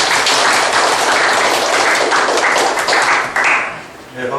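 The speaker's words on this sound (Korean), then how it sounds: "큰 박수 부탁드리겠습니다" Audience applause at a university lecture event for an ecological landscape architecture professor, dense broadband clapping that runs steadily and fades near the end.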